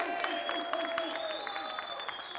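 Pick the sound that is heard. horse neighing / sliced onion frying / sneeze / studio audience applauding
studio audience applauding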